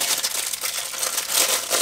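Plastic packaging from a mini wireless backlit keyboard crinkles and rustles steadily as it is wrapped up, a continuous close crackle with no talking.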